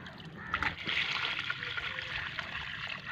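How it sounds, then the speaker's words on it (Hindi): Canal water poured by bucket onto young jamun saplings, a steady close trickle and splash running continuously throughout with light outdoor background. "अभी जी डालते हैं पौधों को पानी"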